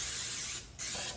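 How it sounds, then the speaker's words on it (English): A steady aerosol hiss of Pam cooking spray from a can onto a 9x13 pan, close up, with a brief pause before a second short burst. "Let's take some Pam and spray our 9x13"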